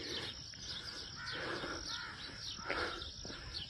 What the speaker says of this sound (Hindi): ये बस सुबह के टाइम चहचहाएंगे, उसके बाद नहीं।